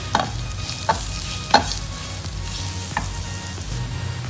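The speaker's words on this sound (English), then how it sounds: "Mix well." Pumpkin soup base with masala, black pepper, coriander powder and salt is stirred in a sizzling pan, a steady fry hiss broken by a few scraping spoon strokes, close and fairly loud.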